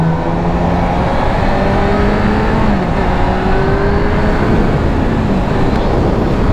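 A motorcycle engine fitted with a new exhaust silencer roars loud and close, rising and falling in pitch as it revs and accelerates without pause.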